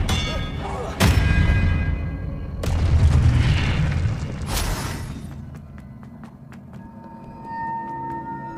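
Expelliarmus spell cast in the Hogwarts Legacy video game, heavy magical booms and blasts with bright crackling bursts, loud and close, then a lingering rumble.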